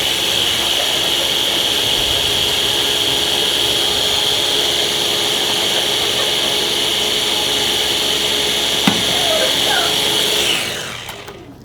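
A Ninja blender whirs loudly, mixing pancake batter made with skim milk and egg in one steady high-pitched roar before the motor cuts out and winds down at the very end.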